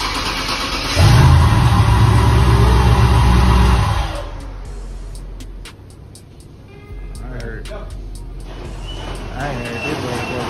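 An old car engine cranks over and catches, then revs loudly up close before settling to a lower idle with clicking and tapping, while people talk nearby.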